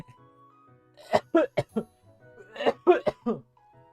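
A person on a livestream coughs and hiccups in short, close bursts, two clusters of sharp coughs separated by a brief pause, over faint background music.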